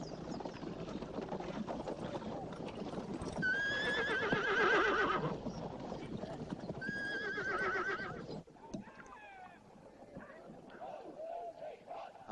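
A horse whinnies twice, loud and close, with its call rising and falling, amid hoof clip-clop and a general bustle of activity. Voices can be heard in the background, and the scene quiets toward the end.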